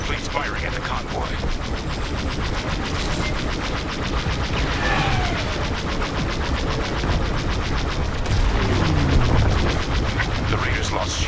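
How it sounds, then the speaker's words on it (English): Imperial capital ships in the Star Wars: Squadrons space battle pour continuous blaster and cannon fire onto a convoy, a dense, loud barrage of rapid shots and rumbling booms running steadily throughout with no pauses. "Imperial fleet's firing at the convoy"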